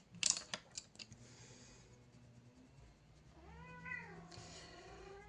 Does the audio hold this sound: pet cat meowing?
yes